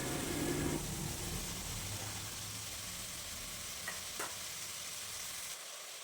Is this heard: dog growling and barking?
no